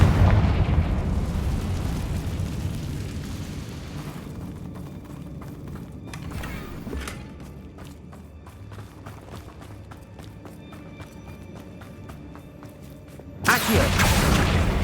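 Fiery blasts from the Confringo spell in Hogwarts Legacy: a loud explosive burst at the start that decays into rumble, then a second sharp, close blast near the end, with quiet game ambience between.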